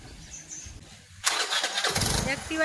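A Honda Activa scooter engine cranks and starts up, then runs with a steady buzzing idle, loud and close, with people talking around it.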